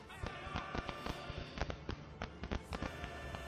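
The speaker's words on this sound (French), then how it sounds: "Allez, un petit coup de bombardier." Bomber air strike in Company of Heroes 2, during the Silence Radio campaign mission, landing as a string of sharp, crackling blasts and pops in irregular rapid bursts, fairly faint and moderately distant, with no talk over them.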